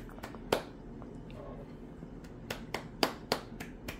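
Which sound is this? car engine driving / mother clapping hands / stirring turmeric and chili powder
mother clapping hands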